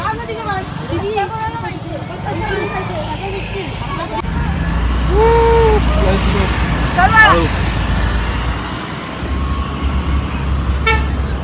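A car is driven on a road in Goa, its engine rumbling under a short tooted horn, with several people chatting and calling out over the steady motor noise.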